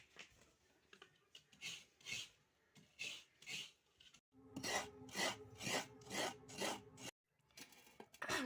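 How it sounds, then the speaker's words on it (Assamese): A coconut being grated by hand for coconut laddoo: rhythmic, close rasping strokes, roughly a dozen in a steady back-and-forth pattern with a brief pause midway, no talking. "এতিয়া নাৰিকলটো মই ফাটাই ল'ম আৰু নাৰিকলটো মই ৰুকি ল'ম।"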